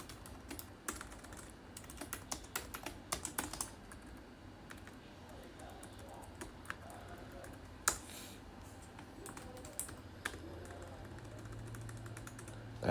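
Steady rapid clatter of computer keyboard keys as Java code is typed, the taps soft and close with occasional louder strokes; no one speaks.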